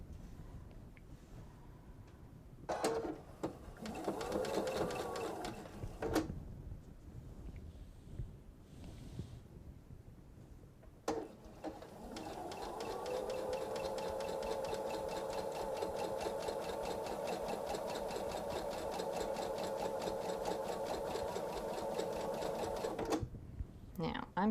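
A sewing machine stitching a narrow hat brim runs in a steady rapid mechanical chatter, first in a short burst, then after a pause in a longer continuous run, close and clear, with a person talking over parts of it.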